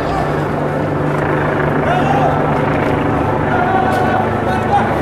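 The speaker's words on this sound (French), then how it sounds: "On a un hélicoptère qui survole même qui survole le quartier." A helicopter flies over a tense neighbourhood, its steady rotor drone filling the background while someone talks over it throughout.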